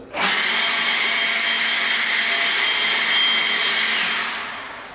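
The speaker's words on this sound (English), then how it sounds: "The first one is you just take a battery operated blower and just clean the floor." Battery-operated blower clearing loose debris from a floor, a loud continuous high-pitched whoosh and whine that starts abruptly and holds steady for several seconds before winding down, with no voices.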